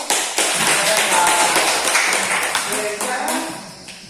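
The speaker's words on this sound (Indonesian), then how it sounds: "jadi tepuk tangan buat Marcellus Asikaro." A classroom group claps together during a physics lesson on hydrostatic pressure, a loud burst of clapping that begins sharply and then tapers off with some talk mixed in.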